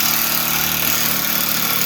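An impact wrench driving an M8 bolt to push a brake rotor off a Subaru hub, with a loud continuous rattling hammer close by for the whole brief moment and no voices.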